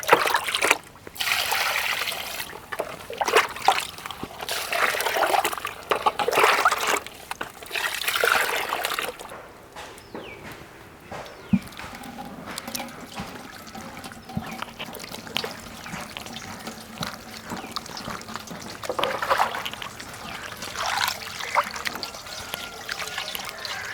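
Water is poured over squeezed arrowroot (koova) pulp and worked by hand, giving a close, steady trickling and splashing with intermittent dribbles and sloshes that carry on throughout, with no talking.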